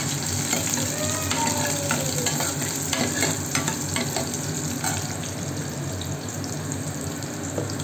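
Bhaji fritters of onion, green and red chilli, coriander, a little sugar and semolina fry in hot oil with a dense, continuous sizzle, broken by occasional stirring clinks and scrapes.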